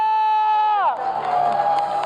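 An esports crowd at the M7 match between AE and ONIC breaks into loud, sustained cheering and applause right after a falling electronic tone sweeps down and fades.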